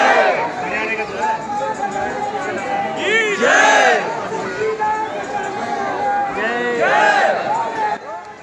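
Dense crowd of pilgrims at a temple, a continuous hubbub of many voices with rhythmic shouts and chanting rising in bursts, close and loud.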